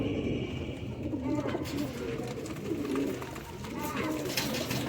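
Low, rolling coos from black-faced Sialkoti pigeons repeat several times at close range, blended with steady ambient noise and faint voices.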